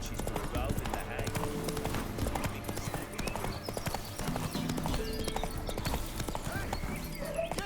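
Horse hooves clip-clop steadily at a brisk rhythm in The Witcher 3, close and continuous, with a horse whinnying at times and game dialogue and music playing over them.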